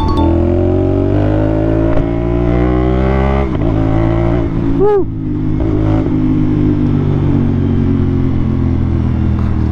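A CFMOTO 450NK motorcycle engine idles loudly close by with a rich steady hum, then gives a quick sharp rev near the middle before settling back, while a voice exclaims briefly over it.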